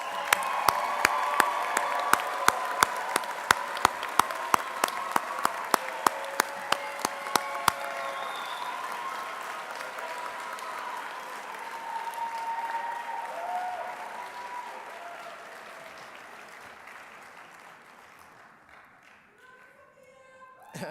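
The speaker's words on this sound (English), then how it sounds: "Everyone, let's please give the class of 2024 a round of applause." Sustained applause from a seated audience at a medical school white coat ceremony for the class of 2024, with one person's close, sharp claps standing out at first, then a broad wash of clapping that gradually fades away.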